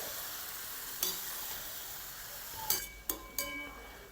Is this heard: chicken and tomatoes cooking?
yes